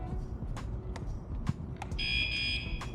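A steady electronic crossing warning alarm rings out from about two seconds on at a train crossing in Canada, over a busy background of voices and ambient noise.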